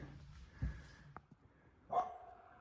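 Faint, distant dog barks, a few scattered yips and woofs from stray dogs outdoors near a house deck, with quiet background and no talk.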